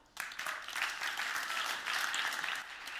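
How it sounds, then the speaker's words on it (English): An audience at a startup founder talk breaks into applause after a speaker's introduction, the clapping starting abruptly and holding as a full, even roar throughout. "So give a big applause to Triinu."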